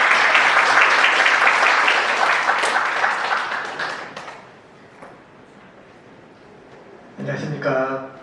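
Audience in a teachers' training lecture applauding to welcome a guest speaker, loud clapping that fades out over about four seconds into near quiet, before a voice starts speaking.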